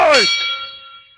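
A single struck boxing ring bell marks the end of a round in a dubbed anime boxing match, loud and close, with a bright ringing tone that fades over about a second.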